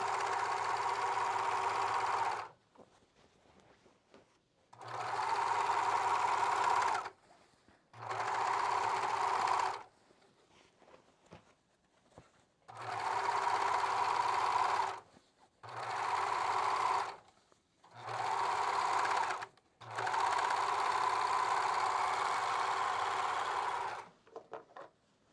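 Serger overlocker sewing machine running in seven steady bursts of a few seconds each, with short pauses between, close and loud, with a constant mechanical whir throughout each run.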